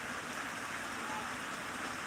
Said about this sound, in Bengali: দেখতে পাচ্ছ তোমাদেরকে দেখাচ্ছি সুন্দর এই বিকেলে বৃষ্টিটা লাইভে